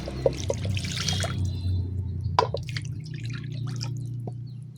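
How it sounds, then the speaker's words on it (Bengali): A small amount of water is poured into a mixture of ground spices and soybean oil for village-style dal, heard as faint, scattered drips and trickles with soft clinks over a low background hum. "দিয়ে দিতেছি সামান্য পরিমাণ পানি।"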